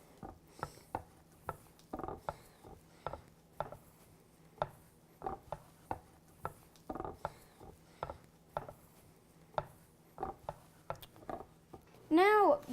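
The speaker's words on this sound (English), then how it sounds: "I prefer to use my hands. Just knead it real well" Dough worked by hand gives a steady rhythm of soft, close, muffled pats and squishes about twice a second, with a brief high squeak near the end.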